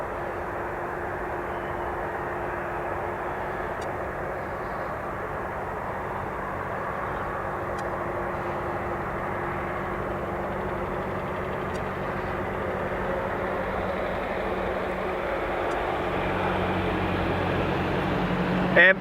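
A new Transavia A320neo airliner taxis at Dublin Airport, its engines giving a steady, gradually swelling whine and rumble from a distance, with a voice speaking intermittently over it.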